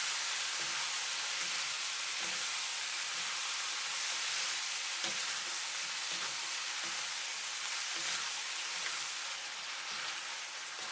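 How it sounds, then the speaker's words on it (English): Beef and Chinese cabbage stir-fry in a wok, giving a steady, soft, hissing sizzle with faint scraping from stirring, continuous and fairly quiet throughout. "Add the sauté cabbage. Stir for 30 seconds."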